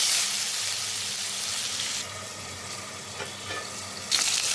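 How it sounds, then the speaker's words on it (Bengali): Potato pieces tossed with salt and turmeric fry in oil over a low flame, giving a steady close sizzle with a few stirring scrapes and a brief louder burst at the end. "এখন আমি আঁচ সিম করে ভেজে নেব ঢেকে ঢেকে।"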